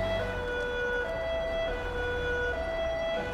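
A British Metropolitan Police car siren in the video game LCPDFR wails, alternating between two pitches over a steady engine drone, fairly faint and continuous, with no voices.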